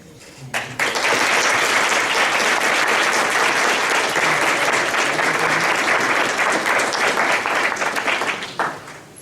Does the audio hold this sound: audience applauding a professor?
yes